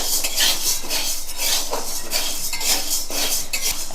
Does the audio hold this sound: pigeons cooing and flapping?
no